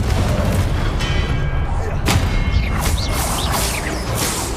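A Confringo fire spell blasting in the video game Hogwarts Legacy, a loud booming burst over a dense, continuous backdrop of game sound, with a few sharp whooshing hits following close behind.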